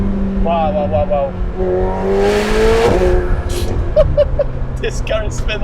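A McLaren 750S engine revs up and falls back, its exhaust crackling and popping as someone talks over it nearby.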